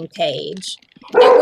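Dogs barking close by in bright, sharp bursts, one at the start and a louder one at the end, mixed in with a person talking.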